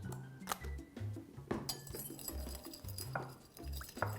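Lemon, salt, honey and olive oil dressing whisked in a bowl, with light rhythmic clinks and taps of the whisk against the side repeating steadily throughout, no talk.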